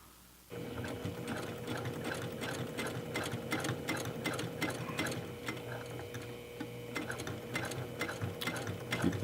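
A sewing machine runs steadily at close range, stitching the lining seam of a makeup bag with a rapid, even mechanical clatter that begins abruptly and continues without pause.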